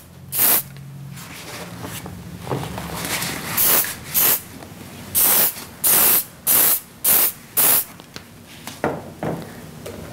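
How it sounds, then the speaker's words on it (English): Close hairspray hisses in a run of short bursts, about eight quick sprays, following quieter handling sounds. "We'll give a final mist with Theory spray."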